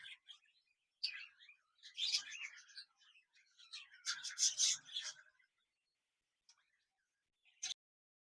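A pair of budgerigars gives quiet, scattered chirps and chattering twitters in short bursts with gaps between them, close but soft, with no talk.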